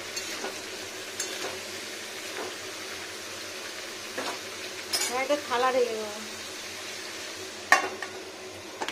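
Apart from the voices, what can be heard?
papaya frying and being stirred in a pan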